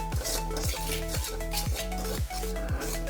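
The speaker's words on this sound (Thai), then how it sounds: "แล้วก็คั่วคั่วเกลือทั้งหมดเนี่ยให้เขา ไปโดนที่เนื้อกระทะทั้งหมดเลยนะครับ" Rhythmic scraping and gritty rattling as salt is stirred around a new metal pan, with repeated strokes over a steady low background hum.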